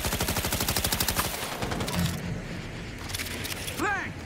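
Rapid bursts of heavy automatic gunfire from big guns in Cyberpunk 2077 rattle loudly, then give way to game noise and brief rising electronic tones near the end.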